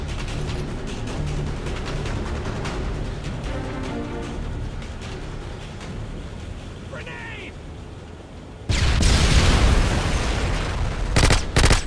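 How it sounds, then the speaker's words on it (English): A grenade explodes in a hardcore search-and-destroy video game round: players talk over quieter game noise, then a sudden loud, booming blast arrives near the end and its rumble lingers for several seconds. "Grenade!"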